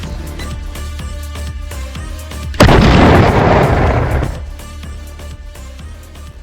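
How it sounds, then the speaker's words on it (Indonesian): Artillery cannon fire in a World War II tank battle film, with a sudden loud blast that swells into a long rumbling roar over a steady musical score, then fades back under the music. "Di tengah gemuruh meriam dan langit yang diselimuti asap mesiu"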